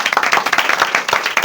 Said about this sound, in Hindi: ताली बजाओ इस लड़के के लिए जोरदार।